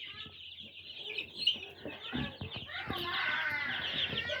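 Chickens cluck in a hatchery holding about two hundred birds. Close, irregular clucks and squawks are heard over a constant high hum, probably from equipment, without any talking.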